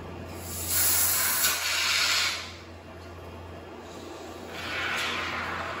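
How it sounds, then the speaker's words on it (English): Expanding foam sprays from an aerosol can into a gap around a window unit, hissing in two long bursts with a quieter stretch between them, close and alone. "I've got it to spray out at first, and then I started from the bottom and just slowly fill that gap all the way up to the top"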